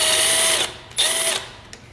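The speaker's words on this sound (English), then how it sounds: "So it's going to be two 10mm bolts. So we're going to remove these." A hand ratchet loosens 10mm bolts on a Honda B-series manual transmission, two short bursts of rapid clicking separated by a pause, close and loud with no talking.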